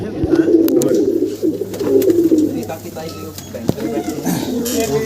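Racing pigeons cooing, a low rolling coo repeated through the stretch, heard close while people talk over it.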